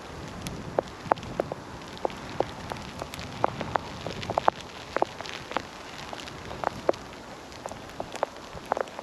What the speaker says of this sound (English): throwing it down with sleety hail falling on the lens